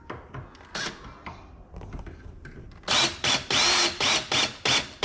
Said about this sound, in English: you can use your drill. Makes it a little bit